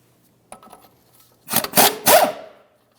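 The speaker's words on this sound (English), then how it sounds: "Use a 19mm to remove this nut." A wrench loosening a 19mm nut on a Ford Fusion steering knuckle gives a light metallic tick, then a few close, harsh ratcheting and grinding bursts within about a second, with nobody speaking.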